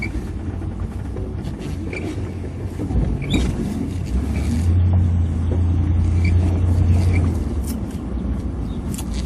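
A car drives at Daingerfield State Park, a low engine rumble that swells and holds near mid-clip, with light rattles and road noise and no talking.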